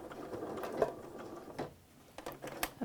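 A sewing machine stitches and backstitches through potholder fabric and binding, giving soft, close, uneven mechanical whirring with light clicks.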